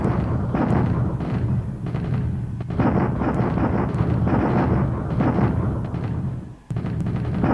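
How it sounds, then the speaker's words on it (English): Artillery bombardment in the strategy video game War in the Pacific sounds as a continuous heavy rumble of booms and blasts, loud and dense, with one brief dip before the barrage resumes. "This is my bombardment here in the source."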